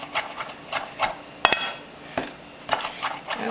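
A knife chops fresh thyme and Greek oregano finely on a cutting board, giving quick irregular taps and scraping knocks, close and crisp, with no talking.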